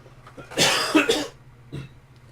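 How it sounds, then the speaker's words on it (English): One person coughs in a short, harsh burst of two or three hacks close by, followed after a pause by a softer single cough, over a faint steady hum, with no talking. "Sorry about that, I had a cough."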